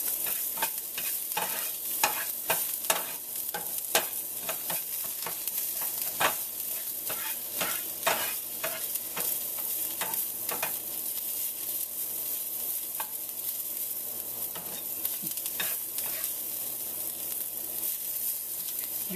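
Fresh spinach leaves sautéing briefly in a pan for a palak raita, with a steady sizzle broken by frequent sharp scrapes and clicks of stirring against the pan, close and continuous with no talking.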